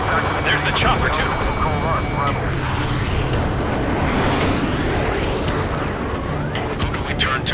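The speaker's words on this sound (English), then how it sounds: "There's the chopper too." A military helicopter in the aerial combat video game Ace Combat 7 drones with continuous rotor and engine noise, loud and dense, blended with roaring aircraft and battle sounds throughout.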